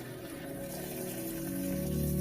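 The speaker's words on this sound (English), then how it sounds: "At the same time, testing the automatic bilge." A boat's automatic bilge pump discharges water in a steady, continuous gush that swells slightly louder toward the end, with no talking.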